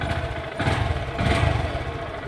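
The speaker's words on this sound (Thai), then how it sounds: "กด2ทีครับ 1และ2 เครื่องยนต์จะติดขึ้นมานะครับ" A Honda MSX SF motorcycle engine, started by remote from its anti-theft alarm, idles steadily close by with a low, even chugging rumble and no voices.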